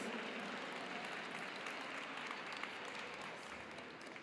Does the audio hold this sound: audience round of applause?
yes